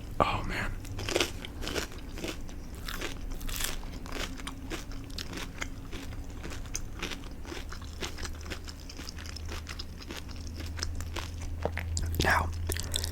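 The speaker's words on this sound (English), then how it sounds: "That is a damn good grilled cheese." Close, crisp crunching bites and chewing of a pan-fried grilled cheese sandwich, with repeated crackly toasted-bread crunches and soft mouth sounds throughout, intimate and near.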